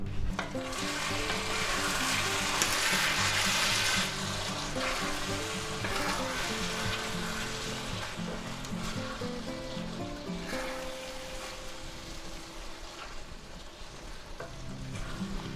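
Bok choy stir-fry with garlic and mushrooms sizzles loudly in a hot pan while being tossed and mixed, a steady crackling fry with stirring scrapes throughout and no talking.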